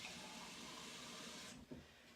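Water poured from a measuring cup into a hoisin sauce jar during cooking, a steady splashing trickle that runs for over a second and a half before a brief gurgle as it stops, faint and close.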